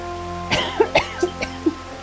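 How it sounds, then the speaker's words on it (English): A few short, sharp coughs in quick succession, close and fairly loud, over a low steady background hum. "I'm probably going to start coughing."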